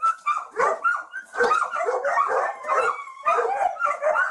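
A dog barks and yips repeatedly in short excited bursts, close and fairly loud, with little else audible.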